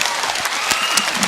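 Brief burst of audience clapping at an outdoor public meeting with a political leader, a dense crowd of hands with a few sharper claps standing out, loud and close.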